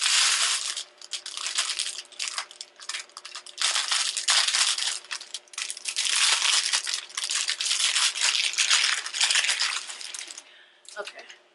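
Plastic packaging crinkling and rustling as a 22-inch Brazilian bodywave hair bundle is pulled out, continuous close crackling for several seconds with a brief pause near the end.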